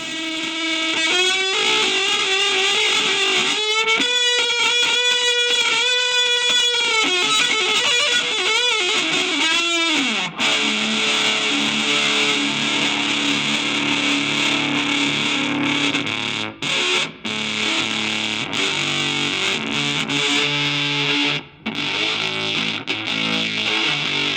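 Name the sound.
electric guitar through fuzz distortion effect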